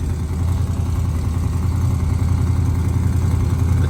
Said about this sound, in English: But the blower motor makes that horrible noise still.